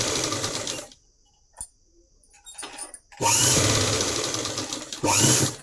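A sewing machine stitches a half-inch hem on fabric for a young girl's body petticoat, running loud and close in bursts separated by short quiet pauses.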